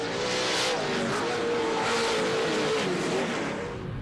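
Off-road Pro racing trucks roaring around the Speed World race track in Surprise, Arizona, a loud, sustained engine drone with revving and rising pitch as the pack passes close by, without commentary.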